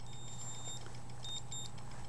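A digital thermometer alarm beeping in a series of short, high electronic tones, in two bursts over a steady low background hum, with no talking.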